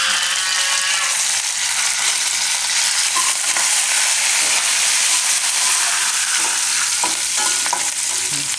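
Green chillies and curry leaves sizzling and crackling in hot oil for a Gujarati moong dal upma, a loud, continuous close-up fry with occasional stirring scrapes and pops.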